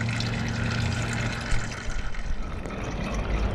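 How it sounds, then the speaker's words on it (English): Used engine oil drains from a Husqvarna YTH24V42LS riding mower in a steady, close liquid stream with a low gurgling, spattering pour and no talking. "sit and let that drain for a minute, get all that oil out"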